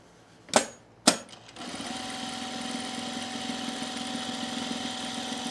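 Two sharp clacks come first, then a sewing machine starts up and runs in a steady, close, even whir, edge stitching the fold of a cargo shorts pocket.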